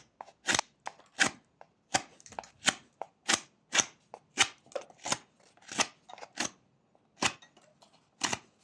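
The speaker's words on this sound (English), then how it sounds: "I think sweeping cuts are the easiest way to remove most of this wood." A knife makes sweeping cuts through a small wooden block being whittled, giving about a dozen crisp, sharp scraping snaps in a fairly steady rhythm, close and clear against near silence.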